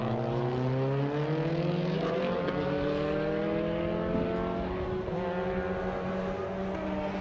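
Mustang race car lapping the circuit at COTA, a loud sustained engine note near by with rising and shifting harmonics as it accelerates, no talk over it.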